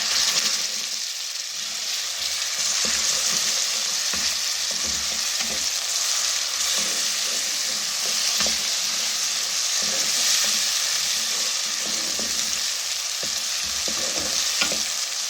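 Onion with ginger garlic paste fries in a pan, a steady close sizzle and hiss running throughout, with frequent scraping and clicking from stirring layered on top.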